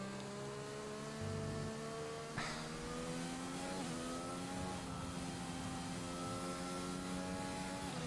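Race car engine in a racing video game at the Circuit de Barcelona-Catalunya, a steady high-pitched whine with shifting harmonics as the car holds speed through a corner, constant and fairly loud throughout.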